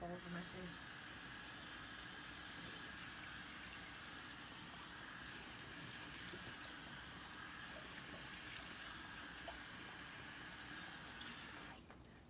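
Tap water runs steadily from a faucet at a bathroom sink, rinsing a face cleansing tool that has makeup on it; a continuous soft hiss of flowing water that stops abruptly near the end.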